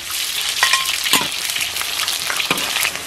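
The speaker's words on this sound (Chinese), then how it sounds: "生煎大蒜，" Garlic frying in hot oil and beef tallow in a wok, a continuous close sizzle broken by several sharp scrapes of a spatula stirring at irregular intervals.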